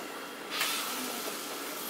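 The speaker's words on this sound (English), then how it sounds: "Nice sizzle." Steady, bright hiss of fish frying in a hot pan, rising sharply after a moment and holding on as a continuous sizzle.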